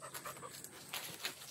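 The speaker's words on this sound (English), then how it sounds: "Here comes Lily, the other neighbor's dog" A neighbor's dog pants quickly and softly nearby in rapid short breaths, outdoors on an overgrown property during fence clearing.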